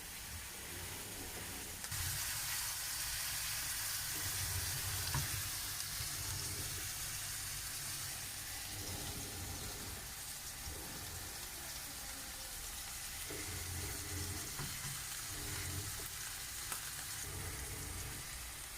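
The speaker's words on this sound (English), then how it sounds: "We're going to cook it one patty at a time" Smash burger patty frying alone in a pan, a loud continuous sizzle that jumps up sharply early on and then hisses steadily with faint clinks.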